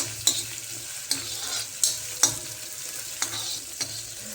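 Tomatoes frying in a pan for an okra and eggplant curry, a steady close sizzle broken by several sharp scrapes of a spoon stirring at irregular intervals, with no talking.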